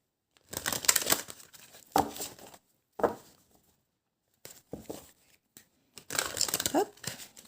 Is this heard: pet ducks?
no